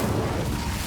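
Incendio fire spell from Hogwarts Legacy, a dense, loud roaring whoosh of flame lasting about a second.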